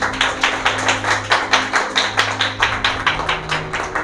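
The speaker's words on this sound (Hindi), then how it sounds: "सब ताली बजाएंगे प्रभु की महिमा के लिए।" A church congregation claps in steady rhythmic unison, roughly four claps per second, loud and close with no speech over it.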